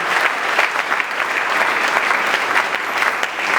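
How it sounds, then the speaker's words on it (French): A church congregation at a French and Lingala worship service applauds for Jesus, with steady, sustained clapping from many hands filling the room throughout. "Acclamez pour Jésus."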